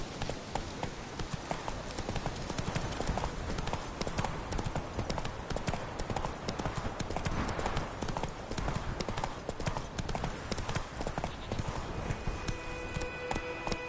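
Horse hooves clip-clop steadily and loudly throughout in The Witcher video game, a dense galloping rhythm with a faint whinny-like tone near the end.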